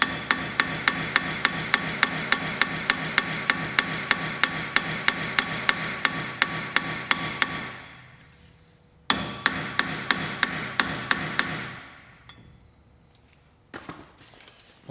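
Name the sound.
hammering while changing Peugeot 205 front brake discs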